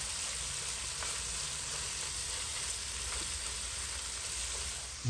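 Pork chops seasoned with salt and pepper sizzle steadily in a pan inside a van, a continuous close crackling hiss with no talk.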